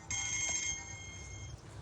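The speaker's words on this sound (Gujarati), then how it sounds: "ફોન એ આવી ગયો છે." A phone ringtone chimes with sustained electronic tones at a cow shelter, fairly close, over low background rumble and without talk.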